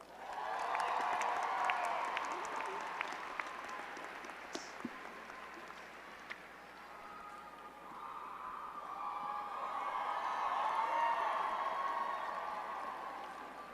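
Commencement audience at a psychology graduation ceremony applauding and cheering for the faculty speaker, a steady wash of clapping with a few sharper claps, swelling again after a brief lull.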